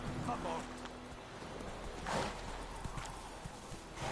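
Horse hooves clip-clop in a game setting, a mount galloping across The Witcher video game world, steady near footfalls mixed with ambient game sound and brief voice-like bursts.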